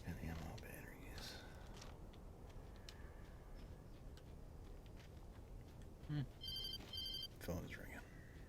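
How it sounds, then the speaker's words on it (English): A telephone rings in Alan Wake Remastered, a short bright electronic ring repeating a couple of times late in the stretch, heard over a murky game ambience and a soft voice talking. "Phone is ringing."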